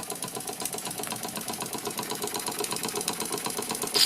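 A circa-1900 Bassett-Lowke model steam engine with a heavy cast iron base runs on steam in rapid, even mechanical chuffing and ticking, close and moderately quiet, with no voices heard.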